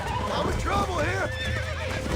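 A horse whinnies in Red Dead Redemption, a wavering neigh that rises and falls over about two seconds against game noise and low rumble.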